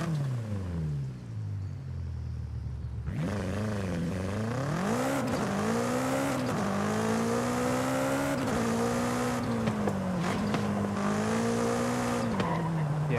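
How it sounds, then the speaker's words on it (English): A Mercedes E63 in Forza Horizon 5, its engine note rising and falling through repeated revs and gear changes, with squealing tires layered over the loud, close, continuous drone. "I just like the sound of that E63"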